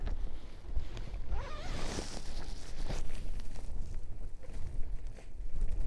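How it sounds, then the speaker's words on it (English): Wind buffets a tent at night while camping in an abandoned quarry in the Peak District, with loud, gusty rushing, irregular fabric flapping and rustling, and a few rattles and bumps close by, and no speech. "The wind's starting to pick up a little bit more, so the tent's flapping around a little bit."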